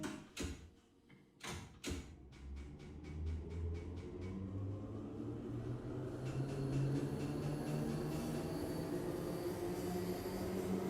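Bakerloo Line underground train in Train Sim World 2 with a sound mod, a few sharp clunks at the start giving way to a loud, steady low rumble and roar that builds and holds throughout.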